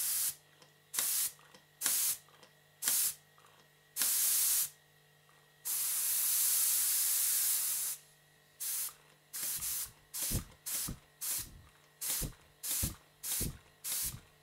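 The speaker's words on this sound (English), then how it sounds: "Now watch what happens when I connect the compressed air." Compressed air hisses into a Stuart steam pump in bursts, loud and close: a run of short blasts, one long steady hiss, then a quick rhythmic series of sharp puffs as the piston moves.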